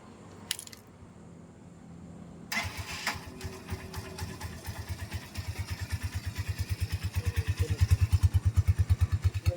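A motorcycle engine with its catalytic converter removed starts after a few clicks and idles with a rough, loud, rapid putter that grows stronger and more pulsing toward the end.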